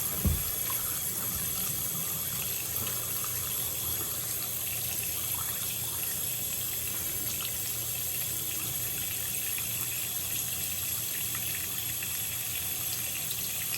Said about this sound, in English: and I'm gonna run some water.